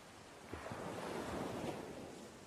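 Ocean waves in the open sea, a soft, steady wash of surf that swells slightly midway, faint and distant, with no voices.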